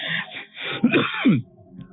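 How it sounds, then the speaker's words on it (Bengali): A short burst of coughing, two or three harsh, throaty coughs close to the microphone, then quiet. "কাশি চলে আসছিল মাঝখানে"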